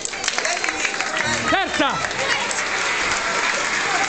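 Wedding guests clap and cheer during a bride-and-groom party game, a steady crowd applause with a brief swooping sound in the middle and a voice speaking over it.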